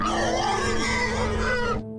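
A large wild boar grunts as a sound effect in a narrated folk horror story, with loud, rough, continuous snorting grunts filling the clip before cutting off abruptly near the end.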